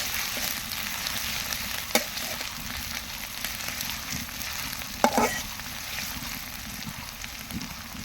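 Onions sizzle steadily in hot oil in a pan, a constant close frying hiss broken by a couple of sharp clinks from stirring.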